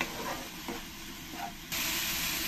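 Tomato paste sautés in a pan for a Bengali-style fish curry, giving a faint, steady sizzle with soft scraping stirs that swells into a louder hiss in the final second.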